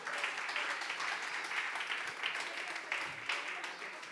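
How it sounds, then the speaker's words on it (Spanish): A church congregation applauds, a continuous wash of many hands clapping at moderate distance while voices carry over the top. "Denle un fuerte aplauso a Dios"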